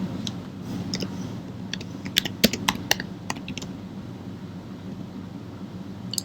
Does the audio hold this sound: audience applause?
no